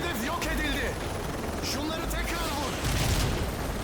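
Gunfire and explosions in the video game Call of Duty: Modern Warfare 3, a dense continuous battle din of shots and booms with a helicopter drone underneath, steady and loud throughout.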